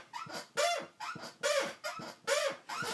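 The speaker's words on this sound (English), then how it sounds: "listen to that squeak." Repeated squeaking from a Game Boy Advance SP, about seven evenly spaced creaky, chirp-like squeals in quick rhythm, close and fairly loud with no talking.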